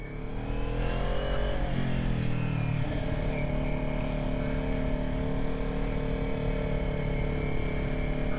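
A Kawasaki Ninja 400 motorcycle rides along with a loud, continuous engine drone and wind rush, its pitch briefly climbing and shifting as it accelerates, with no talking.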